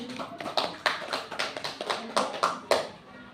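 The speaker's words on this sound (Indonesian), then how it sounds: "tepuk tangan itu untuk Ibu Nopri" A small group claps for Ibu Nopri at a school teacher dissemination session, a loose scatter of individual hand claps rather than full applause, fairly close and moderate in level, with faint talk underneath.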